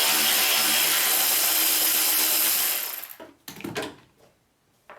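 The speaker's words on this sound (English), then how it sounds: "So the last nut has been removed." A pneumatic or power tool runs loudly and steadily while removing the last strut nut on a Ford Freestyle, then stops, followed by a few metallic clinks and handling noises.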